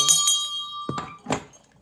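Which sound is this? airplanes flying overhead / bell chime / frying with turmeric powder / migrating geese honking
bell chime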